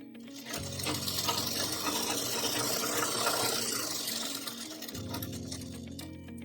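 An electric sewing machine stitches a ladies' jacket (bandi) from the inside, running as a steady close whir with a pause of a second or so near the end before it carries on.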